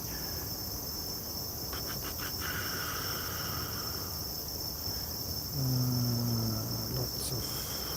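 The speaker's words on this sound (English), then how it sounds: "Cicada sounds in the background, yes." Insects in a Tokyo residential area near the Tamagawa river on an evening walk give a continuous high-pitched shrill drone in the background. A few faint clicks come near the start and a brief low hum comes near the end.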